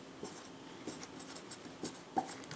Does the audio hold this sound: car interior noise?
no